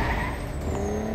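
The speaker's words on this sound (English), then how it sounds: "Now to take my awesome car." A car driving in the action video game Total Overdose, its engine a steady, loud, continuous drone with no pauses throughout, and no voices over it.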